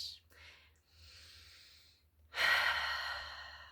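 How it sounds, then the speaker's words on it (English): A deep breath drawn in during a guided heart meditation, a quiet inhale followed by a louder, fuller exhale with an audible sigh, close and alone with no talking. "I'm going to invite you now to take a breath into your heart"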